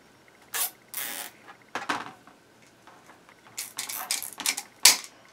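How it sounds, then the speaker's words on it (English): A zip tie cinched around the inner bar of a metal wreath frame while making a sunflower ladybug deco mesh wreath, with several short ratcheting bursts spread over a few seconds and no talking. "Take your zip tie, go around the inner bar. You're going to hear it"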